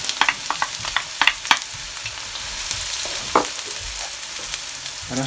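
Half a white onion hits a pan of marinated shrimp for Jamaican peppered shrimp, giving a steady close sizzle and fry with a few sharp stirring clatters early and a brief burst near the middle.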